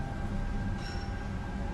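A tram rolling across tram lines on a busy city street in the Czech Republic, a continuous close rumble of wheels on rails with a faint metallic squeal partway through.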